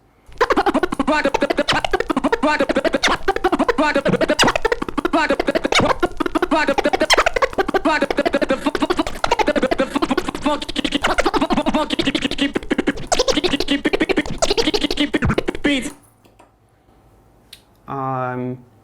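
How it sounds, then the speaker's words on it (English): Music with a vocal plays steadily, cuts out, and after a short silence a quick DJ backspin-and-release record scratch sweeps back and forth for about a second. "backspin and release while chirping"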